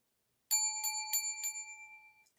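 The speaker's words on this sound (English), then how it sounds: "Oh, look, my bell." A small metal bell hanging among crochet supplies rings four quick times in a row, bright and close, then its tone fades away with no voices over it.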